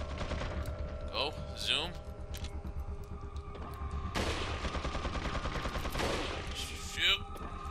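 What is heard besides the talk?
machine gun fire in the video game Resident Evil 4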